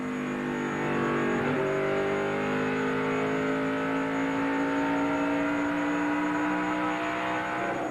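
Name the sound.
NASCAR race car engines on track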